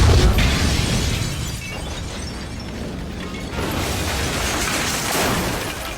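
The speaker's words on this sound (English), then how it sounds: "It isn't meth, he tells Salamanca, before throwing a piece on the floor and causing an explosion." An explosion from a crime drama scene in which a chemistry teacher throws a crystal onto the floor, a loud burst with shattering debris, then sustained rumbling and crackling for several seconds.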